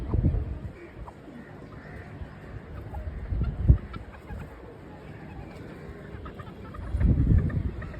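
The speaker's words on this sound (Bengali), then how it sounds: "সব মুরগিগুলো খাচ্ছে, কিছু মুরগির পাশে আছে।" Malaysian Sherma chickens on a farm clucking softly while they feed, with low, scattered clucks and a few louder bursts of movement and scratching, fairly close.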